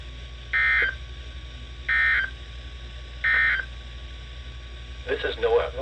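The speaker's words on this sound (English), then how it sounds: "the National Weather Service has just activated the public warning alarm tone in the test" Three identical steady beeping alarm tones, each under a second long and evenly spaced, from a NOAA weather radio warning alarm test over a faint hum, followed by a voice starting to speak.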